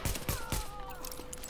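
Sniper gunfire in Tom Clancy's The Division, a few sharp cracks in quick succession early on, faint in a quiet game mix with a ringing tone trailing after.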